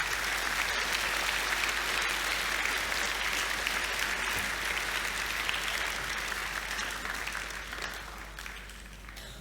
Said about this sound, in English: a round of applause for everyone who got involved in that.